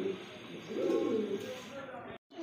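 Danish pigeons of a Pakistani bloodline coo softly among other birds at a pigeon sale, a low rolling murmur under a voice.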